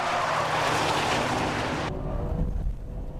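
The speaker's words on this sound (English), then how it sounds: "How fast can the Porsche Turbo take it from here?" Porsche 996 Turbo driving hard into a corner, a loud broadband engine and wind roar that cuts off abruptly midway to a quieter rumble, with no talking.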